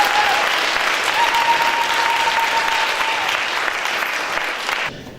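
An audience at a Congolese community ceremony in Belgium breaks into strong, continuous applause that holds steady, then fades and cuts off near the end, with a faint voice or tone briefly heard over the clapping.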